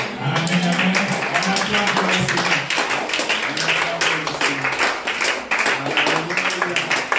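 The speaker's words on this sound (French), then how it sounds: "On acclame pour le Seigneur." A church congregation claps steadily together after prayer, dense rhythmic applause filling the room, with voices speaking and calling out over it.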